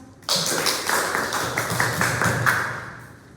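Applause for the moderators at a school panel discussion starts abruptly, with close, loud, fairly rhythmic clapping from a small group that keeps an even level for about three seconds.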